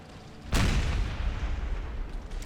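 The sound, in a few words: cannons firing canister shot in Empire 2 Total War video game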